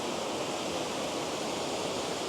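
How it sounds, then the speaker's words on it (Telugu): A waterfall in Germany's Black Forest pours in a steady, dense rush of falling water, continuous and fairly close, with no voices. "ఇట్లా పై నుండి వచ్చి వాటర్ ఫాల్స్"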